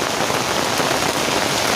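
Rainy-season downpour near the Curug Dengdeng waterfall in Malingping, a dense, even patter of rain on surfaces nearby, steady and loud with no talking.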